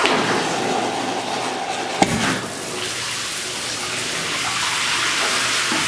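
Running water pours steadily into a freestanding bathtub, a close, even gushing hiss broken by one sharp knock partway through, then continuing unchanged to the end.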